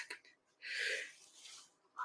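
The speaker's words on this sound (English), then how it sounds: "I'm going to sneeze any second now." A single human sneeze, a sharp breathy burst in a quiet indoor setting, preceded by a short intake of breath and followed by faint breathing.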